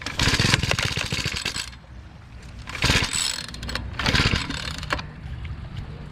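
A Legend Force 46CC gas tiller engine is pull-started in bursts of loud mechanical rasping, three separate pulls with brief pauses between, before it catches and runs.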